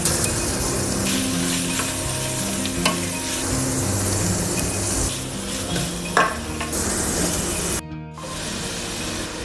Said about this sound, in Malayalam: ഇനി നമുക്കിതിനെ നല്ലപോലെ വഴറ്റിയെടുക്കാം.